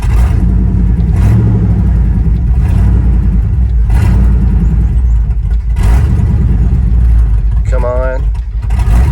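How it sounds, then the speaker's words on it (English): An old carbureted 1988–98 Chevrolet C1500 truck cranks in a cold start, with a loud, continuous engine churn and surges that build but do not fully catch, while someone talks briefly. "cold starts on an old carbureted truck"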